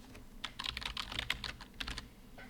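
Quick bursts of keystrokes on a computer keyboard as a file name is typed in, close and clear with short pauses between groups of keys, no voices.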